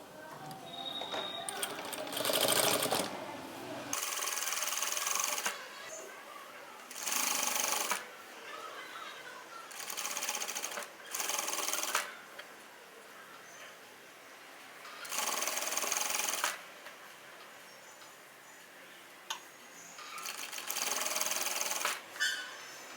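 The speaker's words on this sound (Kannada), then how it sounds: "ಹಿಂಗೆ ಫೋಲ್ಡ್ ಮಾಡಿ ಹಿಂಗೆ ಸ್ಟಿಚಿಂಗ್ನ ಸ್ಟಾರ್ಟ್ ಮಾಡಬೇಕು" A sewing machine stitches a folded, curved fabric edge in repeated bursts of rapid mechanical whirring. The bursts start and stop every few seconds with quieter pauses between them, and someone talks in the background.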